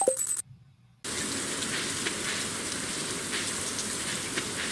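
Steady rain in the Stardew Valley farming game: a soft, even hiss of falling drops that begins after a brief sound and a moment of near silence, then continues unbroken to the end.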